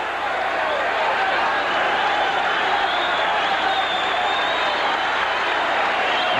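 A boxing crowd roars at Hiram Bithorn Stadium at the end of a round, a loud, steady wall of cheering and shouting that never lets up.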